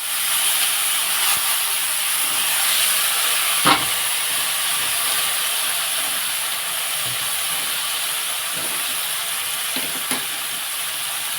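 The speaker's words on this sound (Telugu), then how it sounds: "ఇప్పుడు ఇందులో మనం వంకాయ ముక్క వేసేస్తాం వంకాయ ముక్కలు ఇందులో వేసేస్తున్నాను" Eggplant pieces frying in hot oil for an eggplant fry give a steady, loud, hissing sizzle that holds unbroken throughout, with a few faint knocks and no talking.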